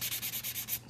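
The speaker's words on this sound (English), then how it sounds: "take the fine side or a very fine grit file and go over the surface again" A very fine grit file smooths an acrylic surface in quick, even back-and-forth strokes, roughly eight rhythmic rasping passes heard up close with no talking.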